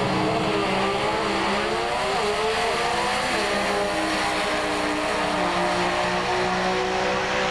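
Drag racing cars roar down the strip at the 1990 Spring Nationals competition qualifying, a loud, continuous engine blare with shifting pitch carrying over crowd noise.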